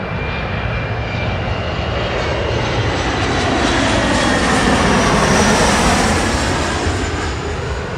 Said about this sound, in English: Unfortunately, no, but we do have this Alaska SkyWest coming in.